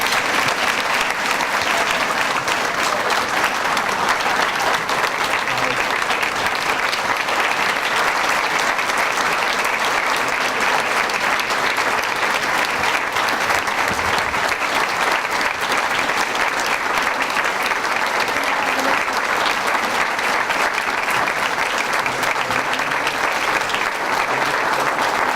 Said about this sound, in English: Please join me in a round of applause to honor our School-Related Employee of the Year, Sarasota County, Deborah Elvis Greenwald.